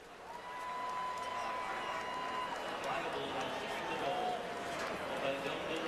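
A racetrack crowd at Churchill Downs roars through the stretch run of the 2010 Breeders' Cup Classic, a dense, sustained wash of cheering from a large stand, with a few whistles and shouts rising above it.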